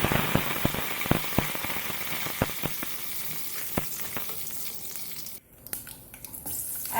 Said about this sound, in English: Add in some mustard seeds. They have started popping, followed by some curry leaves.